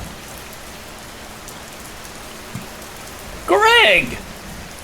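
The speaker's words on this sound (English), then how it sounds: "I hate the rain." Rain falls in the video game Schedule I as a soft, steady hiss beneath the scene, with a single short shout from a voice near the end.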